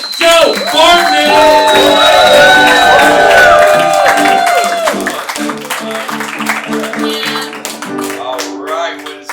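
A comedy club crowd applauds and cheers loudly as a comedian is introduced at a live late-night show, with whoops and shouts; it thins after a few seconds and speech begins over the tail.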